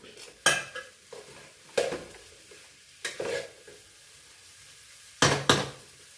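Lentils being stirred and roasted in a pan while making payasam, a few separate bursts of scraping and clinking from a spoon against the pan with quiet gaps between them, close and fairly loud.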